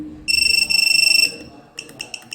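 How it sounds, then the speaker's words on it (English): A drone's KK flight-controller board sounds its battery level alarm, a rapid fluttering electronic buzz in two bursts, then a few short sharp beeps, close and loud. "the buzzer is not some problem with the KK board, but the battery level indicator"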